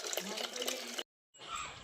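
Water runs steadily from a tap or pipe to fill cattle drinking troughs at a farm. The flow is broadband and moderately close, breaks off briefly, then resumes more faintly.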